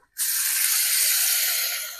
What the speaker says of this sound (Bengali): চিকেনটা ভেজে নিচ্ছি। চিকেনটা বেশ ভালো করে ভেজে নেবো আমি।